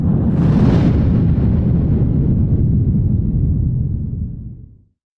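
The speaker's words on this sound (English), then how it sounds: "that noise you just heard was our APB announcement" A podcast's APB announcement sound effect, a loud booming blast like an explosion that rumbles steadily for several seconds and then fades out, with no talk over it.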